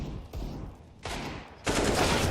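Gunfire in a professional CS:GO match, Mousesports against Astralis, with bursts that step up in intensity, the loudest and densest volley coming near the end, close and without talk.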